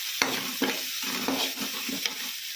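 A leftover chapathi chilli mixture sautés in a pan over low flame, sizzling softly while a utensil scrapes and stirs in quick, repeated strokes.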